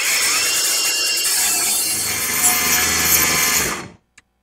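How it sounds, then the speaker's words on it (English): Battery-powered cutting tool slicing through seized, rusty bolts, a loud continuous high-pitched grinding whine that runs steadily for about four seconds, then cuts off abruptly, followed by a brief click. "Let's cut them buggers of bolts out."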